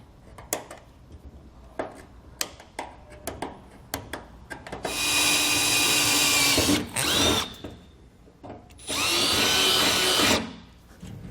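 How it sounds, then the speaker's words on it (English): A power drill bores quarter-inch holes into a trailer box: light clicks and taps, then two long, loud, high whining runs of the drill with a short pause between. "We're going to get our holes drilled"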